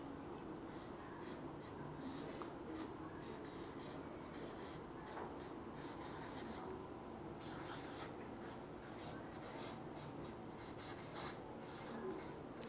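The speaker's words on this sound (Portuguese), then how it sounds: "Vou escrever aqui, ó." Chalk or marker scratching across a classroom board as a teacher writes, a run of quick rhythmic strokes over steady room noise, faint and continuous for several seconds.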